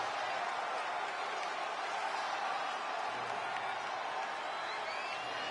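A sellout crowd at a WWF wrestling event in Madison Square Garden, New York, gives a steady, distant roar of cheering and chatter that holds evenly throughout.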